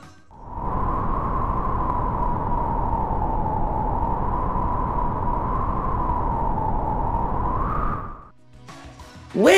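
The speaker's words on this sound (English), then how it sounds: "Wind! Way to go!" Wind blows in a strong, steady whoosh with a tonal howl that holds evenly for several seconds before dropping away.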